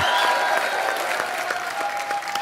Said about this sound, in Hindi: आप सबकी जोरदार तालियों के बीच इनवाइट करना चाहूंगा very talented and very handsome Ritesh Deshmukh and director producer mister Inder Kumar